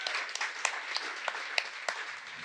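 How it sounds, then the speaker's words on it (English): Applause from a live audience at a podcast event: a brief burst of scattered-to-dense clapping from a modest crowd, moderately loud with a few distinct sharp claps, tapering toward the end. "Give them a big round of applause, ladies and gentlemen."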